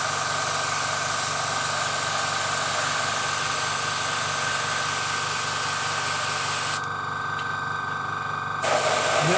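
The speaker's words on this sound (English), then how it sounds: "And now we want to spray that little bit there." An airbrush sprays paint onto a weave with a steady hiss over a low compressor hum. The spray stops briefly near the end, then starts again.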